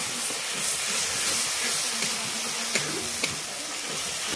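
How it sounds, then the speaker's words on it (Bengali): Spice paste for a vegetarian taro-stolon curry hisses and sizzles steadily in a pan after a splash of water, with a continuous close steamy hiss and a couple of faint clinks, no talking. "সামান্য একটু চিনি দেব অল্প করে একটু জল দিয়ে দিয়ে কষাবো"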